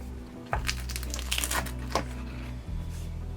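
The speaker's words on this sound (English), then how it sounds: "Let's cut a piece of each." A knife cuts through crispy pizza with a charred bottom crust, giving a few crackling crunches over a low background hum.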